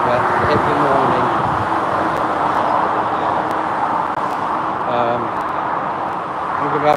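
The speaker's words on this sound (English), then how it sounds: "Sorry about that noise, guys, just going over the motorway." Broadband roar of motorway traffic passing below a bridge being crossed on foot, loud and continuous, with someone talking over it.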